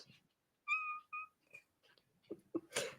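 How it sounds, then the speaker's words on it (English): A cat meows twice in short, clear tones near the microphone during a late-night teachers' radio talk show, followed by scattered rustling and a louder burst of noise. "Sorry, cat just clawed my leg."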